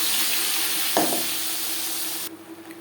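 Ginger, green chili, garlic, onion and tomato pastes frying in a pan, a dense close sizzle with a sharp stirring scrape near the middle before the hiss drops away abruptly at the end.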